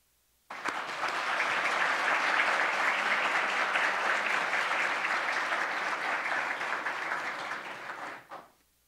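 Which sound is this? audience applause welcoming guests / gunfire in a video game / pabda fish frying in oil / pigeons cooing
audience applause welcoming guests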